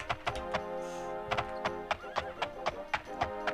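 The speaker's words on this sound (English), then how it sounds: "Alright, let's get up on the horse here." Horse neighing with hollow clip-clopping hooves in the Daggerfall video game, a whinny followed by a steady series of close, loud hoof thuds.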